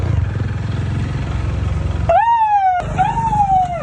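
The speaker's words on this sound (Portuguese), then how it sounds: "Dê a volta pra fazer a sirene." Police car siren switched on in a prank, rising into a loud wailing tone that cuts in over rumbling engine and street noise, breaks off briefly, then resumes.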